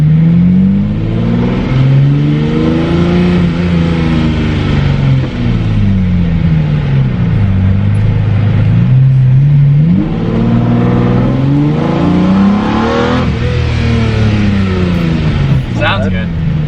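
Lamborghini Murcielago engine revving and accelerating while being driven, the pitch climbing and falling through repeated gear changes, loud from inside the car, with people talking over it.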